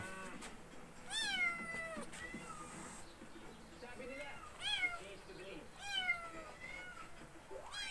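Several high, thin Persian kitten meows in short bursts, some in quick pairs, with light background noise and a voice talking now and then.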